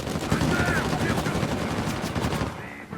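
Gunfire in the video game Uncharted 4, a burst of rapid shots and booming reports over a dense game soundscape for about two and a half seconds, then cutting off to near quiet.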